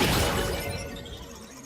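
A bowling-themed champion skin's passive ability effect in a Riot video game: a bright, crashing, shattering burst of noise that fades into a softer rattling, whispery texture over under two seconds.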